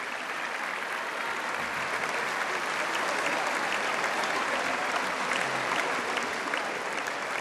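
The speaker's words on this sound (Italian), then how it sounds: "arrivare, ecco, a questi applausi che sono singoli" Sustained, dense audience applause at an open-air performance of La Traviata at the Arena di Verona, a broad wash of clapping that stays steady throughout with no talking.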